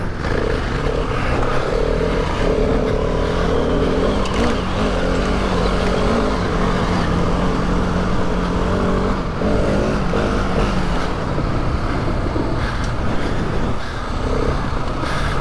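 A Husqvarna Norden 901 motorcycle rides off-road with its engine droning loud and steady, close by, rising and falling slightly with throttle throughout.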